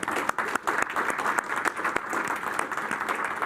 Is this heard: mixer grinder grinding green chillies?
no